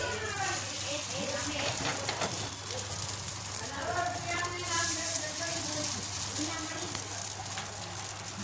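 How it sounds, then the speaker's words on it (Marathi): Mung dal vadas fry in a pan with a continuous soft sizzle and bubbling, while someone talks over the cooking. "छान एका साईडला छान फ्राय करून घ्यायचे, भाजून घ्यायचे, आणि 2 मिनिटांनी त्याला पलटी करायचं"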